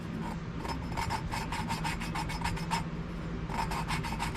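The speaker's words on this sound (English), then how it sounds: "You can hear that sandpaper doing work." Sandpaper rasps against a valve seat in a 1968 Fiat 850 Spider cylinder head, a steady close scrubbing texture with repeated rhythmic strokes at moderate level, no voices.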